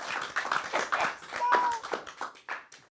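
Hand claps sound in quick, uneven bursts over roughly three seconds, close and fairly loud, mixed with sharp taps and a brief whistle-like tone, with no voices over them.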